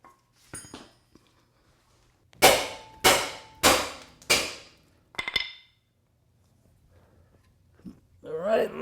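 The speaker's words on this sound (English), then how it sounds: "So I have the pickle fork and a nice big hammer." Four loud metallic hammer blows strike a pickle fork on a Toyota Corolla ball joint in a steady rhythm, each ringing briefly, followed by a lighter tap and a short burst of talk.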